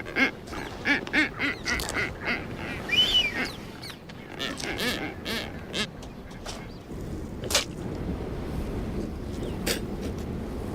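Blue-footed boobies in the Galápagos call during their courtship dance, giving repeated short honking and whistling cries in irregular bursts over a constant rustling background.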